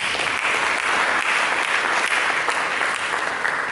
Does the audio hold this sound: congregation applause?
yes